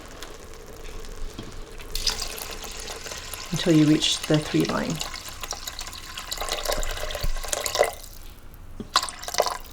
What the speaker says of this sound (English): just add water for the remaining